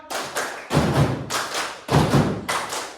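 A class of schoolchildren claps together in time with a rhythmic clap chant, producing loud, sharp bursts of applause-like slaps in a repeating, steady pattern.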